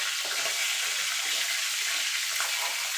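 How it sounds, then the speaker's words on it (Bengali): Hilsa fish heads fry in hot oil with a steady, bright sizzle and crackle that fills the whole moment, close and constant. "ইলিশ মাছের মাথাগুলো ভেজে তুলে নেব।"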